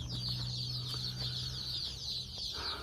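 Egg-laying chickens cluck and chatter inside a farm barn, a steady close chorus of hen calls with occasional sharper squawks and some wing or body rustling throughout.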